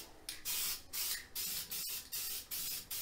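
Spray gun laying a light fog coat of primer onto Honda CBX motorcycle parts, heard as a run of short hissing bursts in steady rhythm, close and fairly quiet, with no talking.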